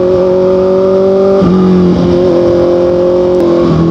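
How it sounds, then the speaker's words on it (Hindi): A four-cylinder motorcycle fitted with an Austin Racing exhaust revs loudly and steadily up close, its tone dipping and climbing again in a few gear-like changes, with no voices. "Austin racing exhaust no doubt 4 cylinder bike में कोई कंपैरिजन नहीं है।"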